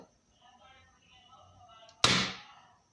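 A single sharp, muffled crack from a suppressed Daisy 880 air rifle shot, following quiet background murmur, with a short decaying tail.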